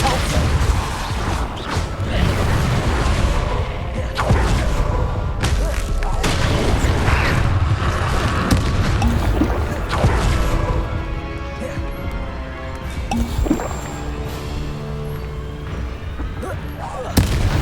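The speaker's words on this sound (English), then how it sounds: "Repulso!" The Repulso spell in the Hogwarts Legacy video game blasts out with heavy booming impacts, crashes and gunfire-like bursts across a busy combat soundscape, loud and sustained, with short intermittent vocal sounds.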